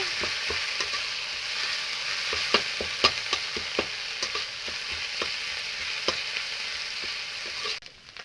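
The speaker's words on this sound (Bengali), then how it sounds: "সব কিছু জিরা ধনা বাটাটা দাম দিয়ে ভাজে নেব ভালোভাবে একদম ভাজে নেব" Steady close sizzle of a ground cumin, coriander and ginger paste frying in hot oil, punctuated by light clicks of stirring, with no one speaking.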